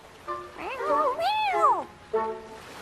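A cat meows close up in three calls: a short one, a longer wavering, rising-and-falling meow, then a brief final call, clear against a quiet background.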